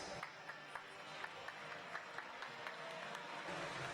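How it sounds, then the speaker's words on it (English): Scattered applause from a crowd fills a large echoing swimming venue during a championship medal ceremony, steady clapping with a few sharper claps standing out. "Ladies and gentlemen, a round of applause for your medal winners."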